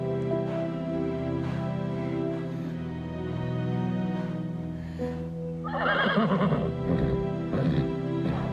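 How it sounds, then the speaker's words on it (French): A horse whinnies in a long, shaky neigh over a constant low rumble, with a louder, rising burst near the end; no speech is heard. "Tu es un grand cheval."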